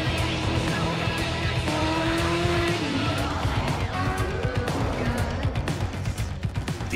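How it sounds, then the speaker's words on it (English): A GMC Hummer EV accelerates hard, a steady loud rushing drone with a rising electric whine and tire noise, continuous throughout. "the thrill of accelerating 0 to 60 in approximately 3 seconds"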